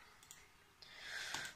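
A computer mouse clicks quietly as Minecraft Launcher is opened from a game launcher: three faint, separate clicks over soft background hiss.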